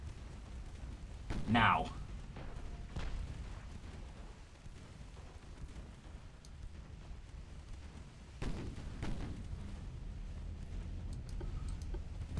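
Naval 7-inch guns fire in a naval warfare video game during a Spanish campaign skirmish, with two heavy booming blasts, one early and one later, over a steady low rumble. A voice speaks briefly.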